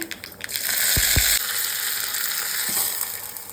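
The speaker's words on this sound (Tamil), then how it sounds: "அவியலுக்கு கொஞ்சம் கடுகு இது ஃப்ளேவருக்காக ரெண்டே ரெண்டு மிளகா வத்தல் ஒரு கொத்து கருவேப்பிலை" Mustard seeds, two dried red chilies and a sprig of curry leaves sizzling in hot coconut oil, a bright loud crackle with a couple of low thuds as ingredients drop in, then steady frying.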